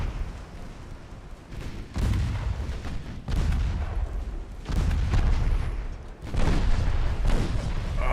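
Heavy naval guns boom in four loud broadside salvos, each blast rolling into a long rumbling decay, during a warship battle in Ultimate Admiral Dreadnoughts with transports and a cruiser engaged.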